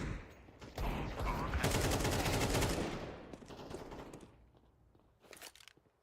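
Rifle fire in a Counter-Strike match: a dense, loud burst of rapid shots lasting a couple of seconds, then fading clatter and a few brief sharp pops near the end.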